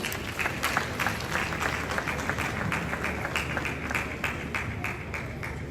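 Steady applause from an audience at a royal ceremony at Manhyia Palace, Ghana, dense even clapping holding for several seconds with faint talk and crowd murmur beneath.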